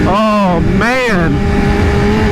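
A BMW S1000RR motorcycle with a loud Akrapovic exhaust, heard close up: a short rev, then a second sharper blip that rises and falls, settling into a rumbling idle.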